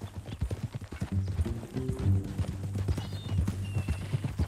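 Horse hooves clip-clopping at a steady walking gait in Red Dead Redemption 2, close and continuous, with a low musical drone and faint game ambience underneath.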